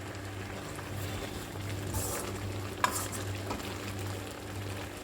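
Manathakkali keerai kootu bubbles and simmers in a pot, making a steady, moderately quiet sizzling and bubbling bed for the whole stretch, with one brief sharp clink partway through and no talking.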